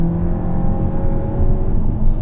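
A 2019 Volkswagen Arteon engine hums and builds steadily from inside the cabin, a continuous low drone with a slight rise in pitch.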